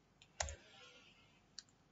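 Two quiet, sharp clicks of a computer mouse, about a second apart, in an otherwise near-silent room.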